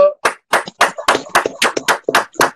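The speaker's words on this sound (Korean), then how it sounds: "뜨거운 박수 한번 부탁드리겠습니다." Ten or so distinct claps, close and fairly loud in a steady rhythm, from a small group at an online candlelight rally protesting the Fukushima wastewater release.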